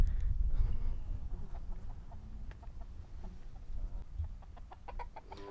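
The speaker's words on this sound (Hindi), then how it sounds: "उन्होंने साथ में मुर्गियां भी रखी हुई हैं" Chickens cluck in short, scattered calls on a camel farm in the Saudi desert near Riyadh, heard over a steady low rumble of wind or ambient noise, with no one speaking.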